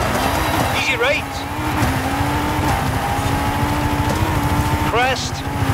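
A Ford Focus RS 2009 rally car in Forza Horizon 5 runs the Three Hills rally stage with a steady engine drone and a rising rev tone, while a co-driver voice calls the route over it throughout.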